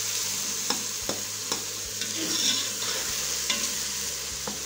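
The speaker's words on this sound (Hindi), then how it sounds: "जैसे ही हमारा ऑयल गर्म हुआ हमने इसके अंदर डाल दिए हैं मोंगरों को फ्राई होने के लिए।" Radish pods (moongre) frying in hot oil, a steady close sizzle broken by sharp clicks and scrapes of stirring at irregular intervals.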